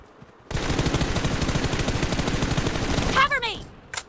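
Rapid automatic gunfire in a video game team deathmatch rattles loudly in a sustained burst of several seconds, cutting off into a few ringing, whooshing effects, with brief speech around it.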